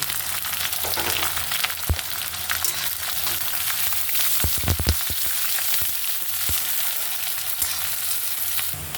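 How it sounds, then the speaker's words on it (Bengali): Onions fry in a pan, browning to red, with a steady loud sizzle throughout and a few sharp clinks and scrapes of stirring. "পেঁয়াজটা লাল লাল করে হয়ে গেছে ভাজা।"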